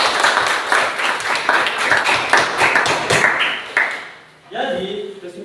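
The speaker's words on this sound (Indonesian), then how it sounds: "Berikan aplaus dulu sama saya." A classroom gives a round of applause, a quick run of about a dozen rhythmic claps, near and bright, that fades out before a voice starts speaking.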